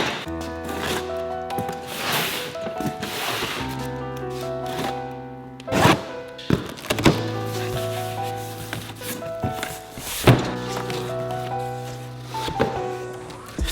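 Unboxing new car wheels ordered from Japan for a widebody Mitsubishi Evo 10, with close cardboard scraping, tearing and rustling, punctuated by several sharp thunks and knocks as packaging is handled, over steady background music.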